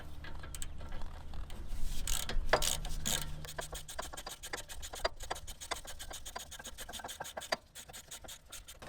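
A hand ratchet with a 15mm socket works brake bolts on a Range Rover L405/Sport L494, giving a faint, rapid clicking pawl rhythm with some scraping metal handling, close up and alone.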